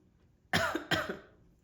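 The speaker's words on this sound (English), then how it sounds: "Excuse the coughing." Two sharp coughs from a person with a cold, close together, near and fairly loud, then quiet.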